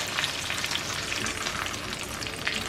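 Breaded shrimp frying in hot oil in a pan, a steady, close, crackling sizzle with no talking.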